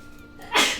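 A single short, sharp sneeze bursts out suddenly at close range after a moment of quiet room tone.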